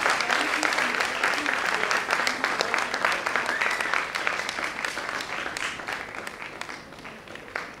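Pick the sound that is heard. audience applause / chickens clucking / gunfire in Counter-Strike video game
audience applause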